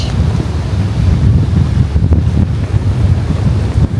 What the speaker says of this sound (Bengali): এত সুন্দর বাতাস হচ্ছে, বাবারে বাবা, সব উড়াই ফেলবে এমন অবস্থা